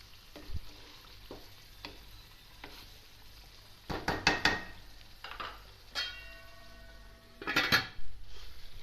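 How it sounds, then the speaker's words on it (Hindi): A metal lid is set on a pot of chicken zafrani karahi, giving a few sharp ringing clanks over a soft sizzle and light stirring scrapes. "अब इसको हम बंद करते हैं, ज़रा ढकना लगा के।"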